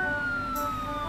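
Toy police car siren in a children's play scene, a steady electronic wail held for about a second, loud and close with no speech over it.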